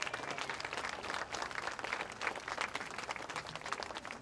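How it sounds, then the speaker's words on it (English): A crowd at an outdoor breast cancer walk in Wickenburg claps together, a faint, even patter of many hands held for about four seconds. "Give yourself a round of applause."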